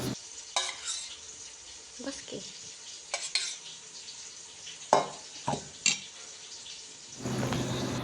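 Yogurt is stirred into prawn masala with a spoon in a pan, giving scattered wet scraping and clinking strokes at irregular intervals, then a soft sizzle at the end.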